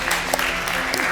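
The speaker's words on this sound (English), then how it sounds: "We went to clap because we were excited about the savoury churros." Judges on a cooking competition clap together in a studio kitchen, excited about savoury churros; a short burst of steady, moderately loud applause with a hum beneath.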